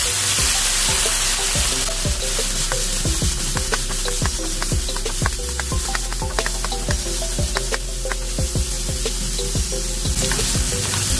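Shrimp and garlic fry in a pan, a steady loud sizzle with frequent sharp crackles and stirring clatter, continuous throughout with no talk.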